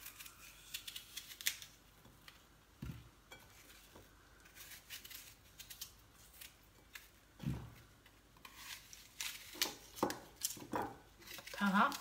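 Knife cutting apples on a board for an apple tart, producing scattered light clicks and taps at an irregular pace with soft kitchen clatter, close and fairly quiet.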